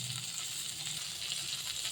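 Onions and cumin powder sizzle steadily in a frying pan, a soft continuous crackling hiss at close range with no talk.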